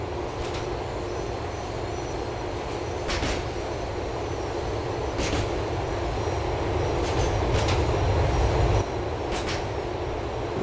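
An LTA Rail subway train in Grand Theft Auto IV running along its tracks on the J/3 Algonquin Outer Line, a steady rumbling roll with rhythmic wheel clacks over rail joints and brief metallic squeals, close and continuous.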